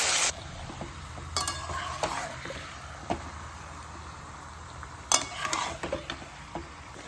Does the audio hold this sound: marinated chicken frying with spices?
yes